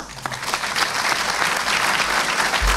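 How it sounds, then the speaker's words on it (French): Audience applause at a talk on Mali and the colonial order: dense, steady clapping from a crowd, loud and sustained across the whole stretch without pause. "Vous savez quelle est ma relation avec les applaudissements."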